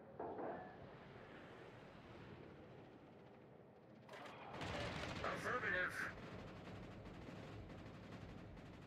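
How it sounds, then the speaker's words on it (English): Anti-aircraft guns fire in a World of Warships naval battle around a T61 destroyer, starting as a dense low rumble and then breaking into louder, sharper rapid bursts over a constant roar of sea and engines. "Provide anti-aircraft fire support."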